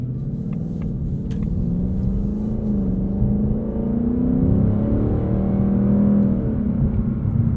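A 2024 Ford Mustang Dark Horse with 10-speed automatic rumbles steadily, sport exhaust on, with low exhaust drone, rising gently in pitch as it accelerates, heard from inside the vehicle.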